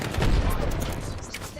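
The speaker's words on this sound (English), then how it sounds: "Taking fire." Gunfire in the battle-royale video game Apex Legends, a dense burst of rapid shots and impacts filling the clip, loud and close, with game voice lines mixed in.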